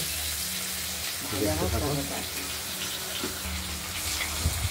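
Potatoes fry in oil in a pan while cooking a fish curry, giving a steady soft sizzle with a few brief louder bursts. A voice speaks briefly over the cooking.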